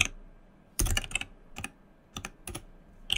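Several quick bursts of key presses on a computer keyboard, typing into a Windows search box with short pauses between clusters of sharp, close clicks, and no talk.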